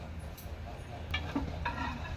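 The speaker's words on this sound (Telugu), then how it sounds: "మిరపకాయలు వేగిపోయాను, ఇవి తీసేసుకున్నాం." Green chillies frying in oil in a pan for coriander pickle, a steady close sizzle with a few stirring scrapes.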